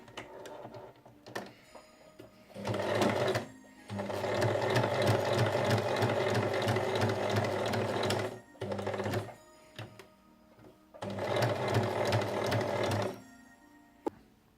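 Sewing machine stitching felt heel pieces onto a fabric Christmas stocking, close and loud in three bursts of steady whirring with short quiet pauses between runs.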